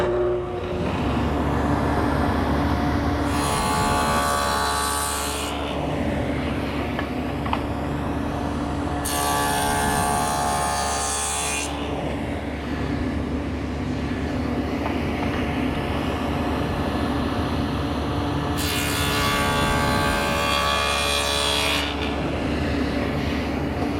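A table saw cuts tenons in cherry wood. Its motor hums steadily throughout, and three separate passes each rise into a brighter, harsher whine lasting a couple of seconds.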